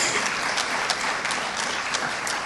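Steady applause from the crowd at a high school FFA awards banquet, a dense, even wash of many hands clapping at moderate distance with no break.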